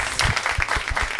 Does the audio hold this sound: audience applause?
yes